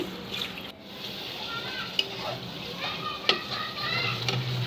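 Marinated chicken frying with spices in a pan makes a close, steady sizzle, with stirring scrapes and a couple of sharp clinks of a utensil against the pan.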